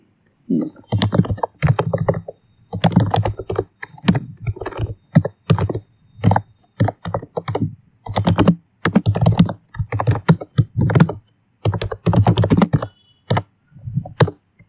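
Computer keyboard typed on steadily, bursts of close, crisp key clicks in quick irregular runs separated by short pauses, no talking.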